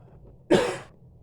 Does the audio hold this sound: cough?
yes